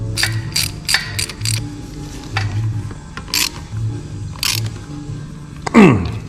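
A ratchet tightening a nut on a Honda Z50 mini trail: rapid clicking bursts in quick runs with pauses between, close and fairly loud, ending in a sharper scraping sweep.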